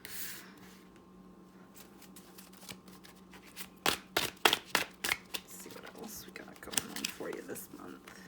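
Tarot cards are shuffled near the microphone in a burst of crisp riffling flutters and slaps in the middle, preceded and followed by quieter card handling against a low background hum.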